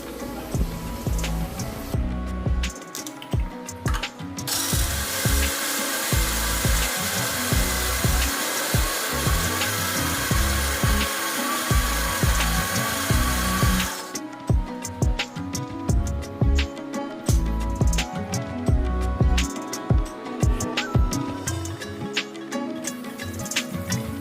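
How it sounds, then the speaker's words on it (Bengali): Electric mixer grinder blending white and black mustard seeds, cashews, poppy seeds and chili into a spice paste, running in loud bursts with a long steady whir in the middle, the whine rising and falling as the jar churns. "সাদা সর্ষা কালো সর্ষা কাজু তারপর নিয়েছি পোস্ত সামান্য নিয়ে লঙ্কা দিয়ে একসঙ্গে বেটে নিচ্ছি"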